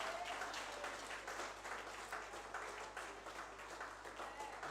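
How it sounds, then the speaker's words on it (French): A church congregation applauds, a faint, steady wash of many hands clapping heard from a distance over a low electrical hum. "Applaudis mon Dieu pour engagement ça."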